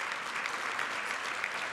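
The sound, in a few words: applause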